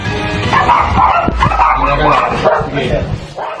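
Dogs bark and yip excitedly as police enter an area in Caloocan, amid a busy, noisy scene with people talking over them.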